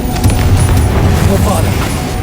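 A Confringo fire spell blast from Hogwarts Legacy goes off as a loud, booming burst with a rumbling low tail, mixed with busy game effects and combat noise.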